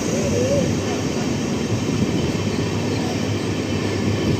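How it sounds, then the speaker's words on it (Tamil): A passenger train pulls out of Kumbakonam railway station on a new Trichy–Tambaram service through Thanjavur, with a loud, steady rumble and roar that fill the whole stretch of sound. "கும்பகோணம் ரயில்வே ஸ்டேஷன்லேருந்து நம்ம ட்ரெயின் கிளம்பியாச்சு."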